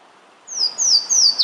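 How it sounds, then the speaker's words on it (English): A Louisiana waterthrush sings a series of three clear, descending whistled notes, bright and fairly close, with quiet background. "The first sighting is this Louisiana water thrush from back in April of 2018."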